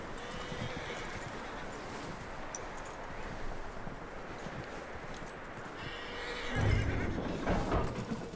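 Horse in the Red Dead Redemption 2 video game, faint hoof clops and shuffling under soft ambient game sound, with a brief louder snort or whinny toward the end.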